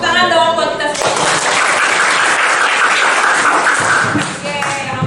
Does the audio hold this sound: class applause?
yes